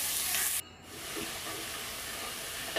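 Four or five chopped onions hit two tablespoons of hot oil in a heated pan, giving a sharp hiss at first that settles into a steady, close sizzle.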